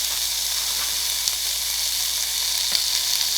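Beef brisket sizzles steadily on a Korean BBQ grill at home, a close, continuous hiss with faint crackles throughout and no talking.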